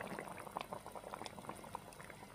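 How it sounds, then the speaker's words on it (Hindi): Cooking oil hits meat that has been simmered until its water dried off, and the pot bursts into dense, crackling sizzling and bubbling, steady and close, with no talking. "और अब ये भुनाई पे आ जाएगा और मैं इसके अंदर ये ऑयल डाल रहा हूँ।"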